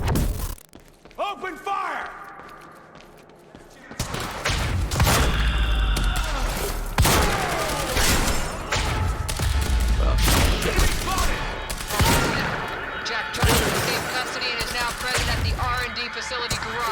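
Dense video game gunfire in Quantum Break during a garage escape: sustained volleys of shots, impacts and shattering that run loud and nearly continuous for most of the stretch, with a brief quiet voice before the firing starts.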